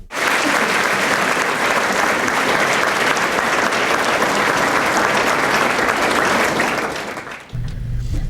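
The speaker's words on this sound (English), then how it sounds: "So there's the applause for the folks who are a part of the Lives of Commitment breakfast, including David Alexander and then Frank an" Sustained, loud applause from the audience at a Lives of Commitment breakfast event, dense clapping that holds steady before fading and cutting off near the end.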